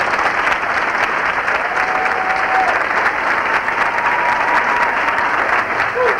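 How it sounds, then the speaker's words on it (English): A large audience at a high school graduation applauds loudly and continuously for graduating students, a thick wash of clapping with faint cheers and a brief whistle rising through it. "Let's give them a great round of applause."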